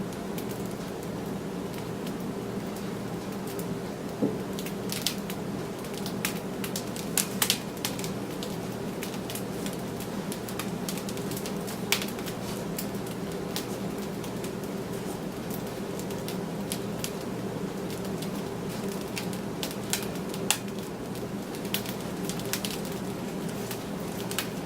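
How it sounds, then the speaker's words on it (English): Freshly baked sourdough loaf crackling as its crust cools, a steady dense fizz of tiny crackles with scattered sharper pops throughout, close and fairly quiet. "Hopefully I can capture that crackle and pop."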